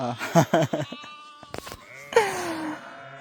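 A person talks briefly in Uzbek, then sheep bleat nearby in drawn-out, wavering calls, one after another.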